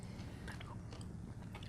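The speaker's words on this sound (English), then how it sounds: "The seeds are crunchy, which is a nice little extra texture" Close, crisp crunching of dragon fruit seeds being chewed, a continuous run of small snaps and bites heard up near the mouth without talking.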